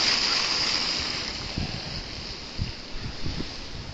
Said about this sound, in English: Wind is too strong.